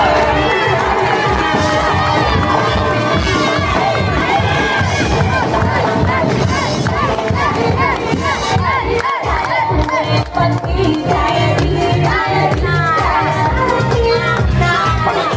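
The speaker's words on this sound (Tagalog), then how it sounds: "malakas na palakpakan na may kasamang hiyawan" A large crowd at a public event welcoming a mayor roars with shouting and cheering, loud and continuous, with music and chanting voices mixed in.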